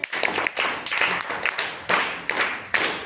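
Clapping from a group at a school prayer and poem recitation activity, sharp bursts of claps in uneven clusters, fairly close and moderately loud, with no voices over them.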